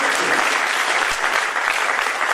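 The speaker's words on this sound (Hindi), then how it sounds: "एक बार तालियां बजा करके हमें आदेश कर दीजिए।" An audience at a Hindi poetry recital breaks into dense, continuous applause, loud and sustained throughout with no pauses.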